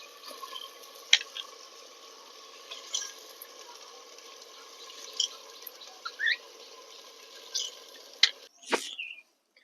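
Rice grains stirred with spiced masala in a pan over low flame for shrimp pulao, giving a soft, steady sizzle with occasional scraping stir strokes and a louder clatter near the end.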